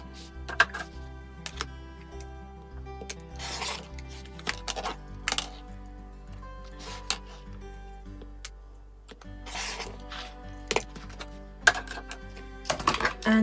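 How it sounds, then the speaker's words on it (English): Quilting pins are pulled from fabric at a cutting board and the fabric is cut along a drawn line, making scattered sharp clicks and light taps in irregular bursts with no talking. "I'm going to remove the pins and then cut through that drawn line."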